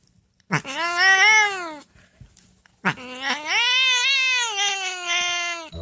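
A cat meows in two long, drawn-out yowls, as if caterwauling along to Happy Birthday, loud and close with a short pause between them.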